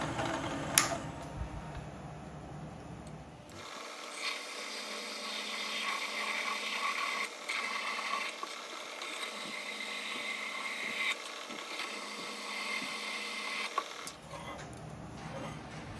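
A PM-728V milling machine cuts metal with a steady, loud broadband grinding whir and the tool chattering, running continuously for about ten seconds between quieter stretches before and after.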